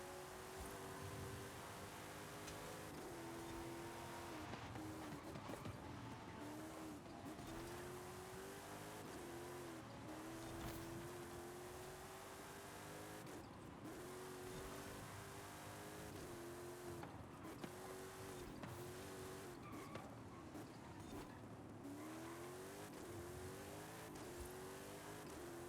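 Car racing in Forza Horizon 5, a continuous engine drone rising and falling in pitch through repeated revs and downshifts as it slows for corners, steady and up front with no talk.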